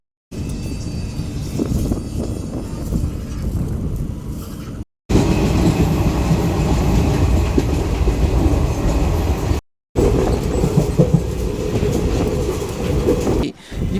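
A special passenger train, No. 07219 on its Narasapuram to Arunachalam inaugural run, pulls away after a two-minute halt at Tenali and runs on, wheels rattling over the rails in a steady loud rumble with brief breaks.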